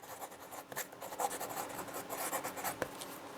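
An Online Air pen with soft turquoise ink scratches quickly across paper in close, continuous strokes with brief lifts and taps between them.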